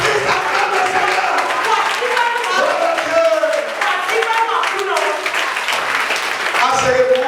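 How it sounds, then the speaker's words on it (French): Church congregation at a Sunday service applauding and cheering together, a dense continuous wash of clapping hands and raised voices filling the room throughout. "si tu crois en Jésus le Père, que ta destinée s'accomplisse, acclame le Seigneur"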